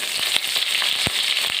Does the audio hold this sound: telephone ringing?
no